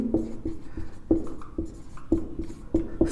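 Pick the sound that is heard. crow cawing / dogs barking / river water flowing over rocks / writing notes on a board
writing notes on a board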